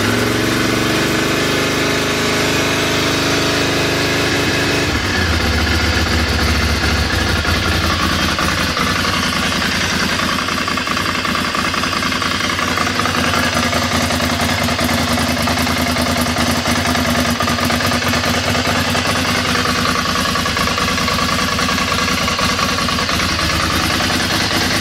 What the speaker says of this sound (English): Cold start with our newly wrapped pipe.